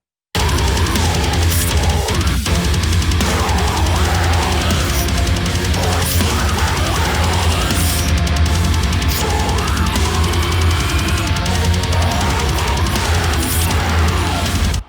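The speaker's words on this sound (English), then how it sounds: "there's some low staccato strings, as well as choirs and organ" A dense, loud orchestral bed with low clipped string stabs, sustained choir voices and organ swells, thick and continuous throughout.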